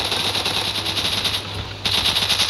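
Rapid automatic gunfire from guns in a zombie video game, a dense continuous rattle of shots that drops out briefly near the end before resuming loud and close.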